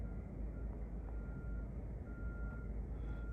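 A bus reversing at a winter protest site, its faint, evenly spaced warning beeps sounding at a distance over a steady low engine rumble.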